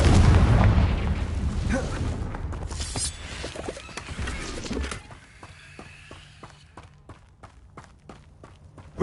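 A Confringo fire spell explodes in the Hogwarts Legacy video game, a loud blast with rumbling, crackling debris over the first five seconds, then dying away into quieter game ambience with sharp clicking ticks.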